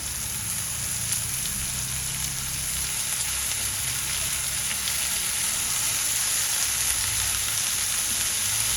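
Chopped radish greens sautéing in a hot pan for radish bhaji, a steady close sizzle with a soft hissing texture that holds evenly throughout, with no speech.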